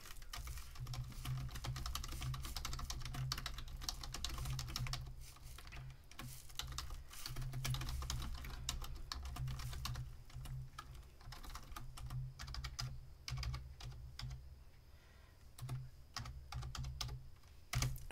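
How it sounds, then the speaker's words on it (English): Fingers type on a computer keyboard in a quiet room, producing a continuous stream of soft, rapid key clicks with brief pauses over a low background hum, no voices. "So I'll type it in for you now."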